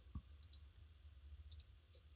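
Mouse clicks while editing a motion animation in Premiere Pro: a few faint, crisp clicks in quick pairs, close to the microphone, over quiet room hum with no talking.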